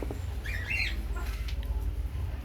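Young turkey poults give a few high, thin chirping calls near the start, set against a steady low rumble of background noise.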